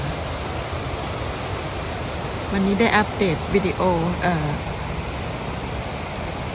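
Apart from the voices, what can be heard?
waterfall in Ticino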